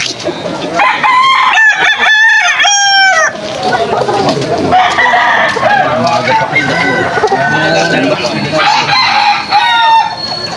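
A one-year-old Kanawayon line stag crows loudly and close, with clucking and other fowl around it in a busy poultry market while people talk throughout.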